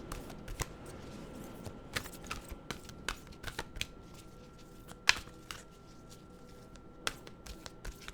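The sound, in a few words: shuffling well-being cards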